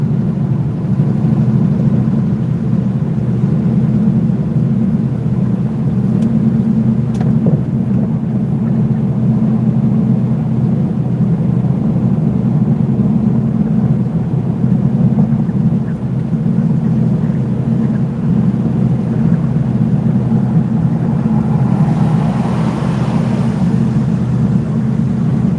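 Continuous low, heavy engine drone of a Peterbilt 579 truck while driving, a steady loud rumble with faint road noise above it and no talking.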